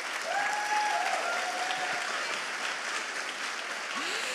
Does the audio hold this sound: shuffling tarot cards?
no